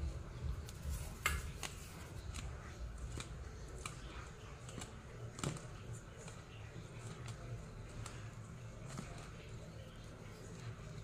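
Batter stirred in a bowl with scrapes and clinks of a utensil against the side, a continuous soft churning with scattered taps, heard close and fairly quiet.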